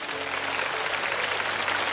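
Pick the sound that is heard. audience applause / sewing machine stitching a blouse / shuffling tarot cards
audience applause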